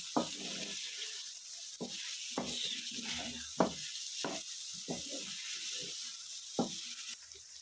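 Chopped capsicum and spices frying in a pan for chicken macaroni, giving a steady soft sizzle broken by repeated scraping stir strokes and light clicks of a utensil against the pan, fairly quiet and without talk.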